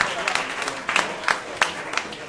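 An audience at a live jazz quartet performance in a London music venue applauds, with a scattered clatter of claps and bursts that rise and fall, moderately distant and fairly quiet.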